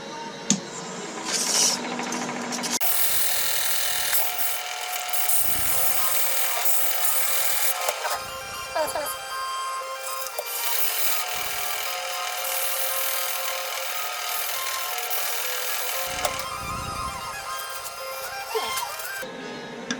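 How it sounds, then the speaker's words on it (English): Steady, loud abrasive rasping of sanding a wooden ball-and-cup toy, sanded against the grain, runs almost continuously, with brief pauses and shifts in pitch as the stroke changes. "I like to reverse the sanding, get against the grain this way"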